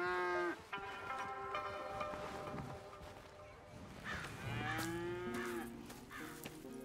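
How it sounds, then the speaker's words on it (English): Cattle in Red Dead Redemption 2 moo repeatedly and loudly at close range, several drawn-out calls overlapping one another with no talking over them. "Here's the cows."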